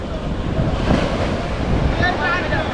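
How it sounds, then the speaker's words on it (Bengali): Rough sea waves surge at the Digha estuary, where a calm river meets the sea, as a continuous loud roar of surf mixed with heavy wind buffeting the microphone. "দেখো ঢেউ দেখো যাচ্ছে, ঢেউ দেখো"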